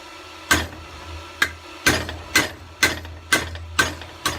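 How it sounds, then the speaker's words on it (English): A blacksmith hammers a drift through a hole in hot steel on a makeshift setup, sending eight sharp, ringing metallic blows at a steady, slightly uneven pace, each loud and close, with no talking. "Now I'll just head it up and then I'll drift right through."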